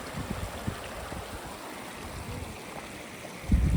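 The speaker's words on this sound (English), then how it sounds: "So basically water's just coming out of the ground here at this point, and away you go" Spring water gushing straight out of the ground at Goredale Scar, a steady close rush and gurgle of flowing stream water throughout, with a louder swell at the very end.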